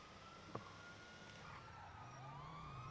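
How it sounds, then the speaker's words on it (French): A faint police siren in the video game GTA wails with rising and falling tones, distant beneath a low engine rumble. "j'entends une sirène depuis une demi-heure"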